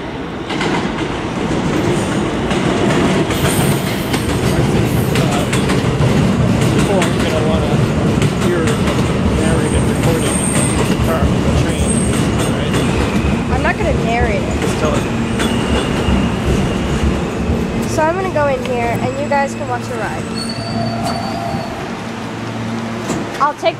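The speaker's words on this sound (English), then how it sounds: "This is a Manhattan-bound Q local train." A New York subway Q local train, bound for Manhattan, pulls into a station with a loud, sustained rumble and rattle of wheels, squeals and clicks near the end, and a recorded announcement heard over the noise.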